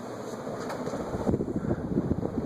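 A 1998 Hunter Original ceiling fan, model 23855/22625, runs with five blades, giving a steady whooshing airflow and low motor rumble with slight pulsing, close and moderately loud, no voices.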